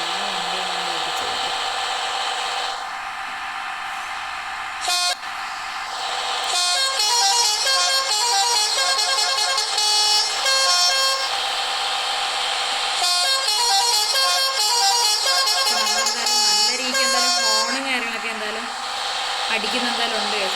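A bus horn in the Bus Simulator Indonesia driving game blares in long sustained, multi-toned melodic honks, loud and repeated with short breaks, over the steady hum of the bus engine.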